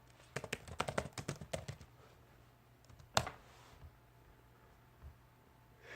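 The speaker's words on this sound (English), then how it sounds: "I always type." Fingers tap rapidly on a computer keyboard in a short burst of clicks, followed by a sharper isolated tap and a faint one later, quiet and close with low background hum.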